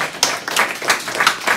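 Short burst of clapping at a Pride festival talk on LGBT rights, apostasy and blasphemy. About half a dozen distinct, fairly crisp claps ring out in an uneven rhythm, moderately close, with no voices over them.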